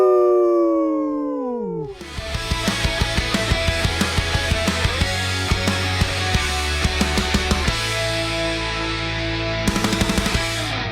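A voice imitates a howl, sliding downward for about two seconds, then upbeat music with a steady beat takes over.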